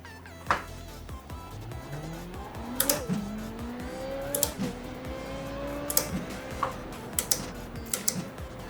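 A Formula Renault 3.5 race car launches in the iRacing sim, its engine climbing in pitch through several upshifts with sharp clicks at each gear change, close and steady.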